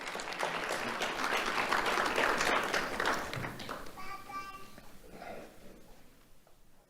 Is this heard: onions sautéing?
no